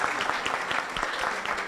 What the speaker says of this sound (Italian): ci sta anche l'applauso